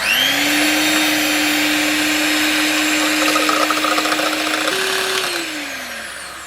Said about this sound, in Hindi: तो अब हम अंडे की सफेदी को बीट करेंगे।